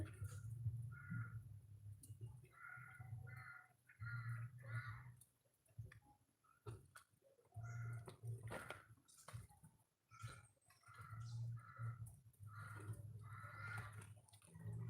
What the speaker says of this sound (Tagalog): naririnig mo yung mga ingay ng uwak?